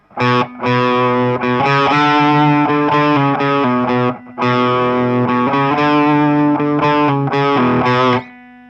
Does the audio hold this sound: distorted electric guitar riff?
yes